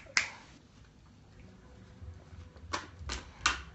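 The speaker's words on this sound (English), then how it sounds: "Why was I snapping my fingers?" Finger snaps, one sharp snap near the start followed by a few more quick snaps later, close but soft in a quiet room.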